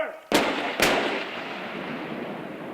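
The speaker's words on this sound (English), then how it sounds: "The Collings Foundation celebrated with a ceremony and a cannon salute." Two sharp cannon blasts ring out at a Collings Foundation ceremony, a loud close report followed half a second later by another, each leaving a long rumbling decay that hangs over the rest of the clip.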